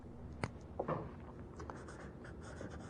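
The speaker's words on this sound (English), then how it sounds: "let me write that down" Faint pen strokes as a finance formula is written down, with a few short scratchy marks close by in a quiet room.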